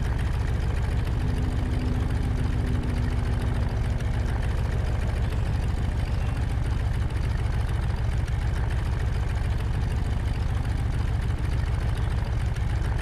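A Stearman biplane's radial engine in Microsoft Flight idles at throttle idle, a steady low rumbling drone with a fine rapid pulse that holds constant and fairly loud throughout.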